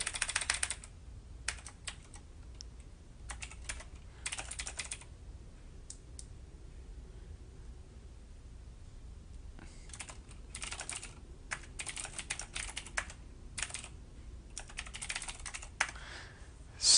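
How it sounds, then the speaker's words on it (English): Intermittent bursts of typing on a computer keyboard, with soft clicking keystrokes coming in short runs separated by pauses, faint against a low room hiss. "twiddling my thumbs and tap dancing on my keyboard"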